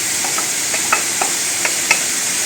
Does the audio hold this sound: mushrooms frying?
yes